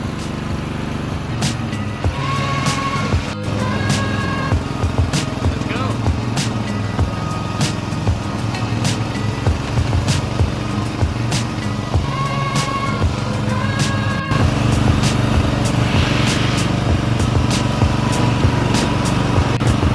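A Murray lawn mower with a Briggs and Stratton engine runs steadily outdoors, a close, continuous droning engine hum with a rough, buzzing texture throughout, no talking.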